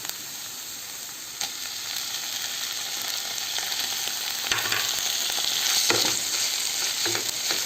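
Tomatoes for aloo dum fry and sizzle in a pan, with a steady broadband hiss. Occasional stirring scrapes and small clinks come and go over it, close by, and no one speaks.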